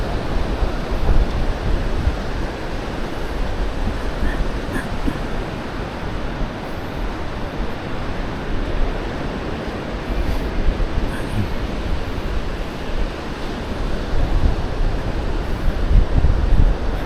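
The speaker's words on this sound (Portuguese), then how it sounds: "onde o vento está forte, mas nesse calor é muito bem-vindo" Strong wind buffets the microphone at Praia do Santinho beach, a continuous broadband roar mixed with surf, steady and loud with gusty swells.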